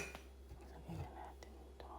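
A spoon stirs morning coffee in a cup with light clinks and scraping, faint and close, over a quiet room with soft background murmur.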